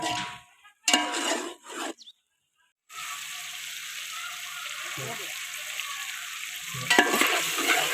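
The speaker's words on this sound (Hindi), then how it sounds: "2-3 मिनट के लिए इसे भून लेंगे" Pre-boiled beef being fried in a pot for yakhni pulao, a steady close sizzle with intermittent stirring scrapes, preceded by a few brief clattering handling sounds and a short silent gap.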